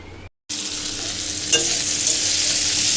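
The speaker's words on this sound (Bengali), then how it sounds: "উচ্ছে ভাজা হচ্ছে, হোক এটা।" Bitter gourd slices frying in a home kitchen pan give a steady, fairly loud sizzle after a brief silence, with a short clatter of stirring partway through.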